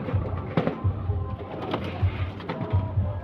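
Pigeons in a loft coo in low, repeated throaty phrases, several birds overlapping at close range amid faint rustling.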